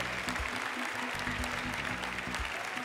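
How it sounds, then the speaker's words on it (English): A church congregation applauds during a sermon, giving a round of applause that sounds as soft, diffuse clapping spread over a few seconds, with no one talking. "give Peggy Sue a round of applause"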